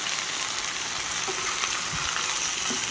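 Duck meat tipped into a pan of browned fried onions for an Assamese-style duck curry, setting off a loud, continuous close sizzle with faint low thumps of the pieces settling, no speech.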